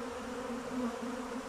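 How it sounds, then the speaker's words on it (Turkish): A swarm of honeybees arriving overhead while a beekeeper works to catch it, a steady dense buzzing hum carrying on without a break, fairly loud and close, with no voices over it. "Şu anda geliyor arılar."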